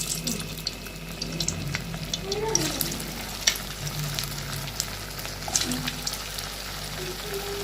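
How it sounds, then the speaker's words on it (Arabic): Very hot oil sizzling in a pan as rasbora sweets made with semolina fry, a steady crackling hiss with scattered pops and bubbling, moderately close, with faint background sounds beneath. "لازم الزيت بتاعنا يكون سخن جدا ويعمل تش كده اللي هي تسمعوا التشة بتاعته"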